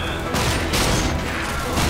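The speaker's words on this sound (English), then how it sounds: "The shotgun is a type of weapon that when you hit the fire button and point it at someone," A shotgun fires in the video game Rage, producing dense, loud booming blasts in quick succession over about two seconds with no pause between shots.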